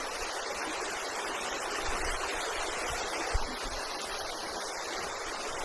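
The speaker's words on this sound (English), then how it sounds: "We're at this nice little creek here." A small creek flows steadily at the end of a road near two bridges, its broad wash of running water continuous and fairly quiet with no voices.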